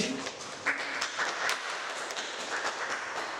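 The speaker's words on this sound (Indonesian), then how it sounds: "Berikan aplaus untuk Saudara Rahim" Applause for a student's answer in an Indonesian university classroom during a teaching session, a short burst of scattered clapping from a small group of listeners at moderate distance.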